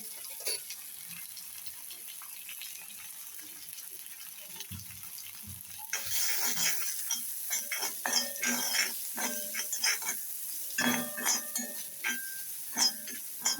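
Flattened rice (poha) poured into hot oil in a pan, first faint and quiet, then a spoon scraping and clinking against the pan as it is stirred, close and moderately loud.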